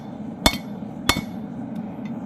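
A hammer strikes a chisel held over the hardy hole of an anvil while forging an axe: two sharp, ringing metallic blows about half a second apart, close and loud, then quiet shop ambience.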